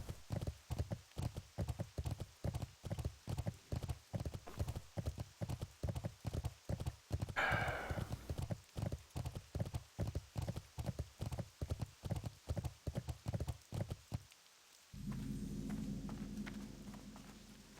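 Continuous rhythmic hoofbeats of a galloping horse in World of Warcraft, close and steady, with a brief whinny midway; the hooves stop near the end, leaving a low hum.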